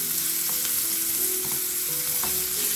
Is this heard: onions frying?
yes